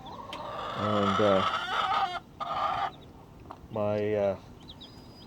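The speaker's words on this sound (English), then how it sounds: "Because obviously 3 of my 7 hens are broody, so they're not laying." Broody hens in a small backyard flock give loud, drawn-out clucks and croaking calls in two bursts, close to the microphone, alongside a person speaking briefly.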